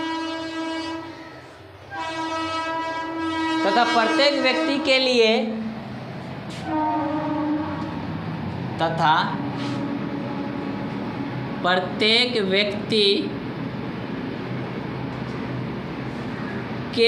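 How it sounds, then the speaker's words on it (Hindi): A train horn blows in long harmonic blasts, repeated several times with short breaks, loud and close, while a man lectures on a maths problem in Hindi over it. "कितना हॉर्न बजा रहा है।"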